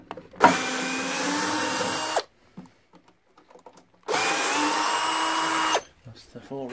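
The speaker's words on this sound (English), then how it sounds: "you can just use a electric screwdriver if you want to save time" Electric screwdriver backing screws out of a wooden shipping crate for a Vire 7 A1 engine, two loud whirring bursts of about two seconds each, separated by a quiet pause with faint handling noise.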